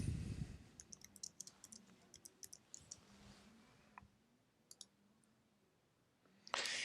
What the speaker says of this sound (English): Type in the name of the course.